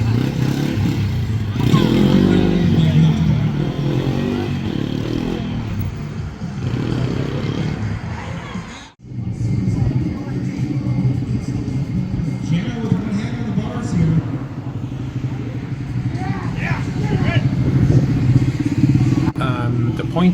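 A pit bike's small engine buzzes and revs steadily as it rides through an outdoor obstacle course, with scrapes and clatter, while a voice talks over it throughout.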